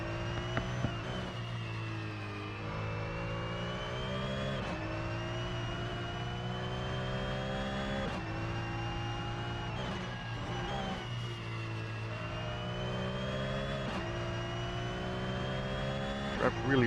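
A Porsche 911 GT3 Cup car in the Assetto Corsa racing game, lapping Mid-Ohio, howls as its engine climbs and drops through repeated gear changes every few seconds, sustained and prominent.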